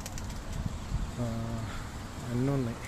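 Pigeons cooing on an organic fruit farm where chickens are also kept, giving two short, moderately close coos with a person talking just before.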